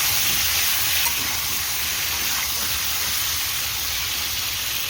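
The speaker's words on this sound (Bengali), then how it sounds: "লাল করে নুন হলুদ দিয়ে একটু ভেজে নেবো। আলুটা ভাজা হচ্ছে।" Potatoes fry with salt and turmeric in hot oil, giving a steady loud sizzle with crackling that continues without a break, close up and with no talking.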